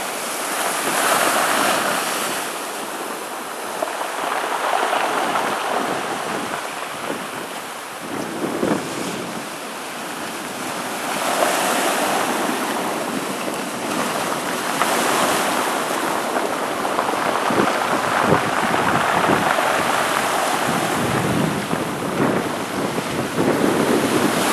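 Large storm waves from Hurricane Sandy surge against the Sakonnet shore, a dense, continuous roar with rising crashes and heavy wind noise on the microphone throughout, no voices heard.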